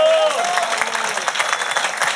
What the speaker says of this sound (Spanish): Aplauso para Ángela